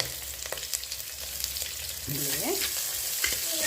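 Sliced onion sizzles steadily in oil for a mackerel pulimunchi, a soft continuous fry with occasional stirring scrapes, close and moderately quiet.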